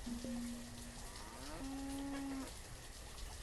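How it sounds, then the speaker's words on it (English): Cattle in the village-building game Banished give two drawn-out moos, one after the other, over a soft rain-like background hiss. "Go hang out with the cows for a bit."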